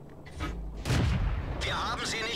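Tank cannon fire in World of Tanks with a T40: a couple of heavy booming shots with crackling bursts, heard alongside talking voices.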